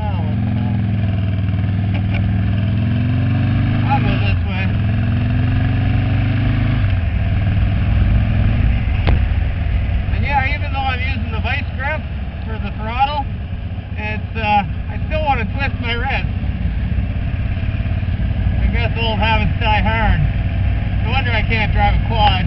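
A quad bike engine runs off-road on a test run, a loud, close, continuous droning rumble with shifts in pitch as it revs and pulls, while someone talks over it now and then.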